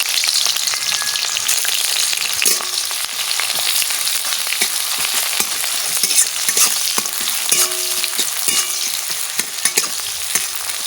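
Onion and mustard seeds frying in a pan, a steady loud sizzle with occasional crackles and stirring scrapes throughout, no talking.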